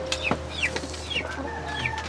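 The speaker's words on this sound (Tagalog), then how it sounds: "Andito na naman yung mga manok na may ingay." Several chickens cluck close by in a series of short, bright calls, one after another with a faint low hum beneath and no speech.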